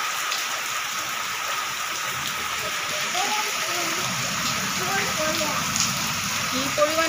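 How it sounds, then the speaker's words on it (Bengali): Heavy rain pours outside a house with a flooding courtyard, a dense, constant close hiss of drops, with a voice talking faintly underneath. "এই তো কি পরিমাণে বৃষ্টি হচ্ছে!"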